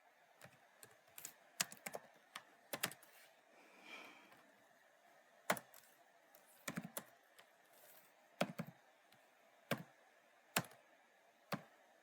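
Computer keyboard typing of commands, quiet and close, in irregular bursts of crisp key clicks separated by short pauses.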